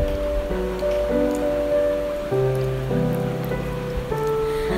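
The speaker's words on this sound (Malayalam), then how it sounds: "ജസ്റ്റ് ഒന്ന് ബ്ലെൻഡ് ചെയ്തെടുക്കാം" A blender runs steadily through sugar and sunflower oil for an eggless marble cake batter, its motor whine holding shifting tones for several seconds without pause, no talking.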